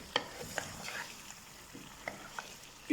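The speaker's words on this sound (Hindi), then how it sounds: "After adding your potatoes, mix your dish well." A spoon stirs aloo chicken with potatoes in a pot, making faint scattered scrapes and light knocks over a quiet, low sizzle.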